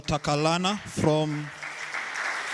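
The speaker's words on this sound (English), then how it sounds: "A round of applause to Dr." Audience applause at an amateur radio contact event with the International Space Station in Kenya, a voice speaks a name at first and then even clapping from many hands continues beneath and after it.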